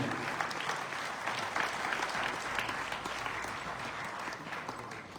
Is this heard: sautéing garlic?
no